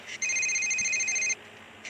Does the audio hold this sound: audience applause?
no